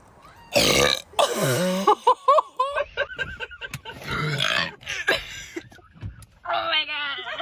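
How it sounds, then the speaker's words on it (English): A woman lets out several loud, deep, bassy burps after chugging Sprite, long rumbling belches mixed with laughter and excited talking from several people nearby. "I'm about to burp"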